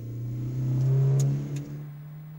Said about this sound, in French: La Renault 8 Gordini de Jean-Pierre Nicolas et Jean de Alexandris s'en sort parfaitement